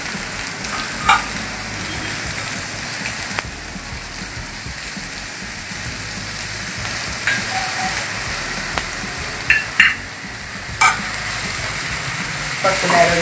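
Onions with salt sautéing in a pan for an egg curry, a steady close sizzle with occasional stirring scrapes and clinks.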